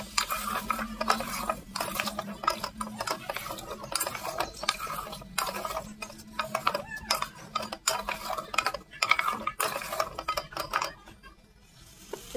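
A utensil stirs and scrapes a pan of raw mango cooking with salt and a pinch of turmeric, giving steady, close clatter and scraping for about twelve seconds with a faint low hum underneath and no talking.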